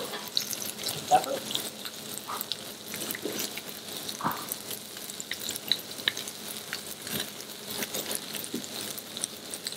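A piece of seasoned turbot fries in a hot pan, giving a soft, steady sizzle with occasional clinks and stirring noises from the restaurant kitchen.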